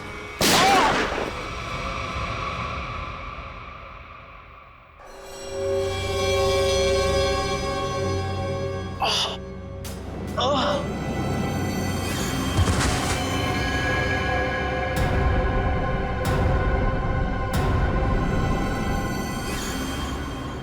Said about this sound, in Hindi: अरे शूट करो ना, गोली चलाओ ना